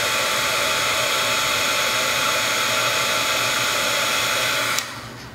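A hair dryer or heat gun roars steadily and close up as it warms a black plastic base, a loud continuous airy whoosh that cuts off abruptly near the end.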